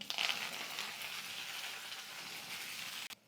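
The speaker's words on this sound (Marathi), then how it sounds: "आता यामध्ये आपल्याला कोथिंबीर तळून घ्यायची" Coriander leaves fry in hot oil for murmura chivda, a steady close sizzle with bubbly crackle that holds evenly for about three seconds before cutting off abruptly near the end.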